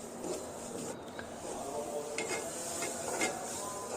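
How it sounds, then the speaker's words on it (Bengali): Onion and spices frying in oil in a pan, with a steady soft sizzle and faint intermittent scraping as they are stirred, heard close. "প্রথমে তেল দিয়ে পেঁয়াজ দিয়ে মশলাগুলো কষিয়ে নিব"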